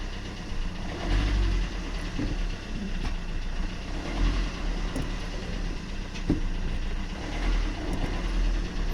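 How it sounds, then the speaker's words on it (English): A 2012 Fiat Doblo pulls away in gear with a freshly replaced lower rear gearbox mounting, its engine droning steadily and smoothly from close inside the cabin, with no knocks or bangs. "if I put it into gear now and pull away"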